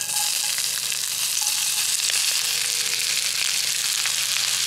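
Onions sizzling steadily in a hot pan over an outdoor rocket stove, a continuous close, bright frying hiss with faint crackles throughout, no voices.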